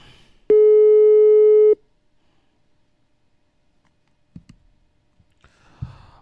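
A single steady telephone busy tone during a radio call-in, sounding loud and clear for just over a second and then giving way to near silence with a few faint clicks.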